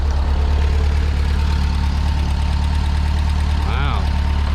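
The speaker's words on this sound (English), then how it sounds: "seems to be idling fine." A bus engine idles loud and close with a steady low rumble and faint knocking, joined near the end by a brief rising whistle-like tone.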